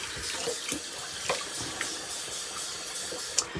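A tap runs steadily into a sink for a face rinse after a wet shave, with faint splashes and small clinks over the flow.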